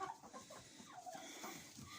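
Broody hens clucking in a henhouse in winter, soft irregular low clucks and murmurs heard close and quiet, with no talk over them.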